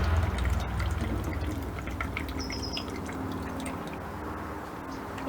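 Water pours into a plastic popsicle mold, starting as a brief fuller gush and then trickling and dripping softly, close by.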